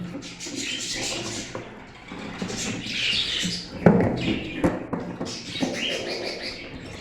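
Cockatiels at a bird farm, one hen sitting on an egg, give repeated harsh squawks and chirps at close range over a steady background of other birds, with no talking.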